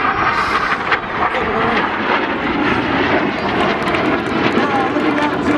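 Red Arrows aerobatic jets in box formation at the Rhyl air show, a steady loud roar of jet engines filling the air for several seconds, with a commentator talking over the PA.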